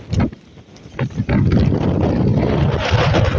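Heavy, steady wind with rain from a typhoon roars across the microphone with a broad rushing noise, gusting near the start and then holding loud and constant.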